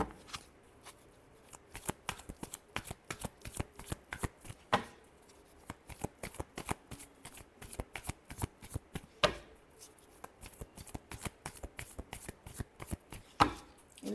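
A deck of tarot cards is shuffled by hand, close and quiet. Rapid, repeated crisp flicks and slaps come in uneven bursts over about fourteen seconds, with no voices.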